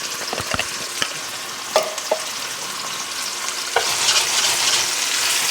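Flat iron steak frying in a pan sizzles loudly and steadily, with a few sharp clinks and taps early on and a brighter, fuller sizzle toward the end, and no voices.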